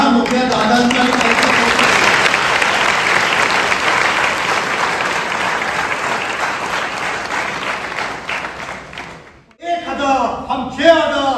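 An audience claps together at a community charity gathering to honour visiting elder brothers. The dense, loud applause is sustained for about nine seconds, then fades out, and voices begin talking.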